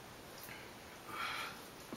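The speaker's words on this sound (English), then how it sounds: "I'm gonna have the little sniffles. Onions is making me cry, you know?" Quiet sniffles from someone slicing onions in a home kitchen, a couple of soft short nasal sniffs close by with no talk.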